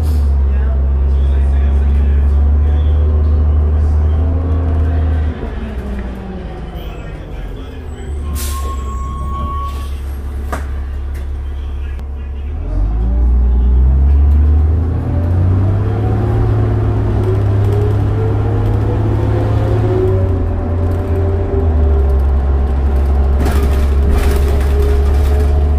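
A Calgary Transit 2003 New Flyer D40LF bus drives along, its loud, low diesel drone rising and falling through gear changes, while people talk over it.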